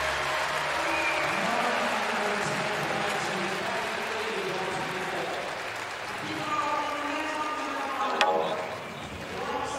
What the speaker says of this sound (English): nice roar from the crowd for that